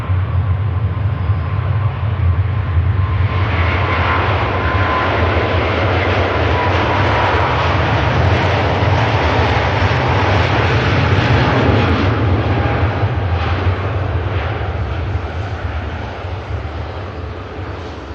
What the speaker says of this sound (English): Goes Airbus A350 1000 series with Virgin Atlantic.